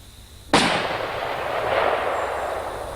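A rifle firing a standard military-type factory load over a chronograph gives one sharp, loud report with a long rolling echo fading behind it.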